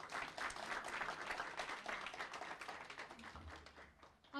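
Audience applause for a senator at a celebration of women in public service: a steady, dense wash of many hands clapping throughout, soft and somewhat distant.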